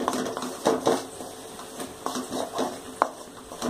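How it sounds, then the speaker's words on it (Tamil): Ginger for a thuvaiyal is sautéed in oil and stirred with a metal spoon, giving repeated clinks and scrapes against the pan over a light frying hiss, close and fairly loud. "நல்லா சுருள வதக்கி விடுங்க."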